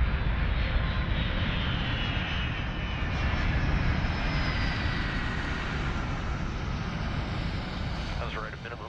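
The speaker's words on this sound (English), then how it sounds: "Gently, the crew eases the huge C-17 to the ground." A huge US Air Force Boeing C-17 Globemaster III comes in to land, its engines giving a loud, steady roar that fills the whole stretch and eases off slightly near the end.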